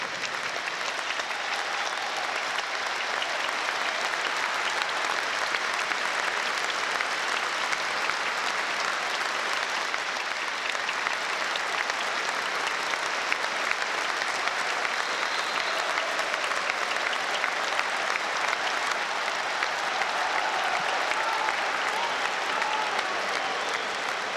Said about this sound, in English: Please join us in a minute of applause.